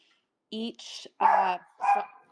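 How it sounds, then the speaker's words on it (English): Several dogs bark in short, loud bursts at close range, with yips in between, spread over about two seconds. "sorry, my dogs."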